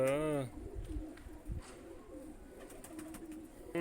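Soft, low cooing from a female yellow-eyed pigeon murmurs close by, with a person's voice briefly at the start and again at the very end.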